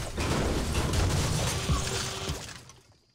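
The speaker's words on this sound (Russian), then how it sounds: "О, еще и грузовик разбить можно. Класс, давай его расфигачим." A truck being smashed in the video game Fortnite: a loud, dense crash of shattering and breaking debris lasting a few seconds, with a sharp impact partway through before the clatter fades out.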